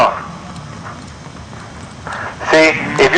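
Horse hooves clip-clop faintly on the ground during a horse and cow training clinic, soft steps at first growing louder and nearer toward the end, with people talking in the background.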